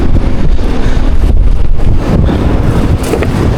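Strong wind blows at a dam, a loud, steady rumbling roar pressing on the microphone for the whole stretch, with no voices.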